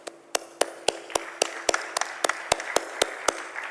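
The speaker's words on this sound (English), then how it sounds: "let's give them a round of applause" Applause in an auditorium at a congress sounds as sparse, evenly spaced claps, sharp and fairly close, with no voices over them.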